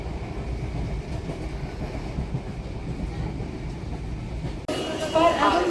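Steady low rumble of a moving train on rails after boarding at Gopalnagar, continuous throughout, with a brighter rush of wind and rattling near the end.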